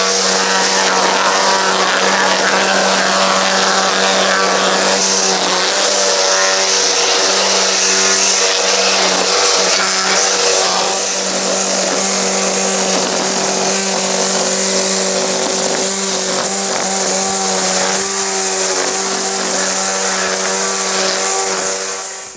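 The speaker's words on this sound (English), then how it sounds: "that's a really quick overview of the Ego line trimmer" An EGO 56V battery-powered line trimmer edges a lawn with a steady, loud, close high-pitched whine that runs unbroken for over twenty seconds, with no one talking.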